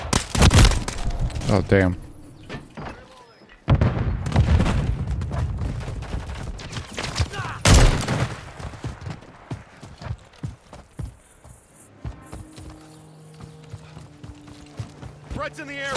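Call of Duty gameplay with a heavy grenade blast and bursts of rapid gunfire, loud and close, followed by quieter game effects and music while a player talks.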